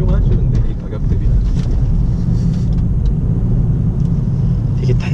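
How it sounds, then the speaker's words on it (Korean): Inside a Chevrolet Cruze driving over a brick road, a steady low rumble of road noise fills the cabin, dense and constant with faint rattles from the plastic interior trim. "벽돌길에서 이 소음이 어떻게 올라오는지 잘 봐야 돼."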